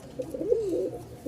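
A pure white pigeon pair, a male beside a female, gives a soft rolling coo that rises and falls up close, a single low throaty call over quiet background.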